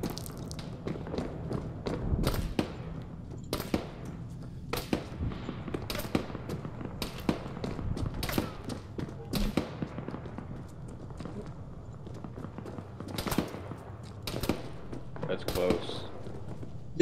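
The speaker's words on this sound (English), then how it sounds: "they're shooting at me" Sharp gunshots crack out one after another at irregular intervals during combat at an airfield, some close and loud, others more distant, with voices talking in between.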